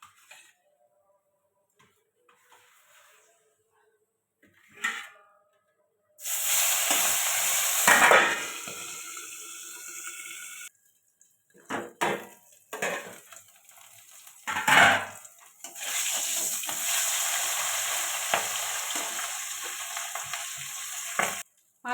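Two pieces of fish dropped into hot salted oil in a pan: after a quiet start, a loud, bright sizzle bursts up and continues with brief breaks and a few utensil clinks, no voices.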